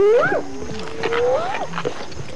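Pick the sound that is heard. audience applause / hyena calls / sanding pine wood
hyena calls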